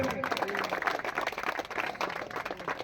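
Audience applause at an outdoor welcome ceremony in Jamugadia, Odisha: dense, steady clapping from a crowd that carries on without a break, with some background voices mixed in.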